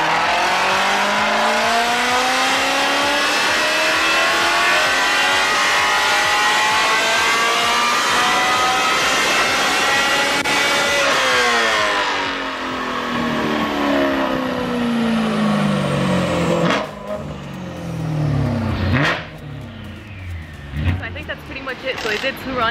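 A 2009 BMW E92 M3 revs hard on a dyno, its engine note sweeping up steadily for about ten seconds, dropping, then climbing again before cutting off, loud and close throughout with people talking over parts of it.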